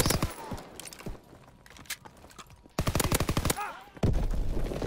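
Bursts of automatic gunfire in a shooter video game, rapid rattling volleys with pauses between, the loudest sustained stretch near the end.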